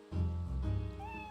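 A cat meows in a Shu Takumi detective video game, one drawn-out close meow with a rising tail, heard clearly over light game sound.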